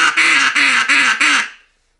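A single-reed Ducklander Loud Timber duck call is blown close and loud in four quick raspy quacks, evenly spaced, the last one trailing off into silence.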